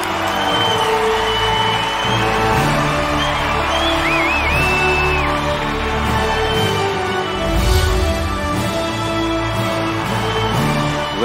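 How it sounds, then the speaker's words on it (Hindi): A crowd at a Bhojpuri stage award show cheers and whoops over steady applause under loud, reverberant hall music, and the noise stays dense and continuous throughout. "एक जोरदार तालियां मनीष जी के लिए"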